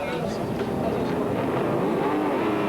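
A Shelby Cobra sports car at the 1997 Tour de France Auto classic rally, its engine a loud, continuous throaty roar heard close up, with a voice talking over it.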